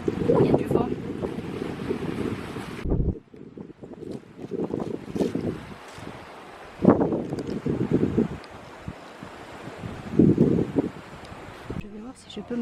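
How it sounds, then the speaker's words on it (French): Gusty wind on the seaside promenade at Herceg Novi, Montenegro, comes in loud bursts of microphone buffeting separated by quieter lulls, with a person talking at times. "Oh, il y a du vent."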